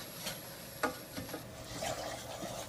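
A long-handled spoon stirs a hot mixture in a pot, giving soft, intermittent scraping strokes with a faint background sizzle, moderately quiet and without talk.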